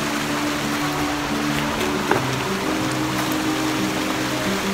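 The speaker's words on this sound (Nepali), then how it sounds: "म चाहिँ खोलामा छु" A hill-country river stream flows past in a loud, steady broadband rush, close and constant throughout with no voices over it.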